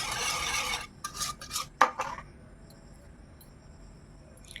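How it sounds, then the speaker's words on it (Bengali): Spoon stirring milk into a mango and yogurt mixture in a bowl: a few short scraping strokes close by, then quiet. "দুধ দিয়ে আমি ভালো করে মিক্স করে নেব।"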